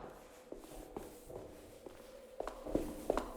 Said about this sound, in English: So we're still hearing footsteps.